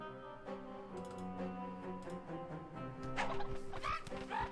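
A rooster clucks in short, repeated bursts in the Discworld II video game, standing out over a steady layer of game music; the clucking becomes louder and busier toward the end.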